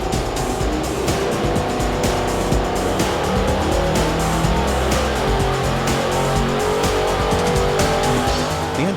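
A car engine runs flat out on a dyno during oil testing, a loud continuous roar with rising and falling harmonic whine that holds steady throughout and has no speech over it.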